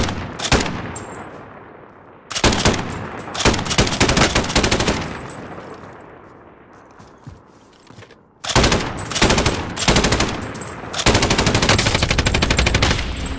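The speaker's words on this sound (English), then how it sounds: "I got shot from behind, bro." Gunfire in Call of Duty: Modern Warfare, loud bursts of rapid automatic fire in several sustained strings separated by quieter gaps, with sharp, close shots.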